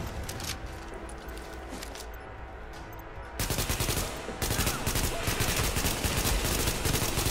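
Heavy weapons gunfire in Tom Clancy's The Division, the Lincoln Tunnel Checkpoint mission: dense, loud rapid bursts of automatic fire that intensify midway and continue almost without pause.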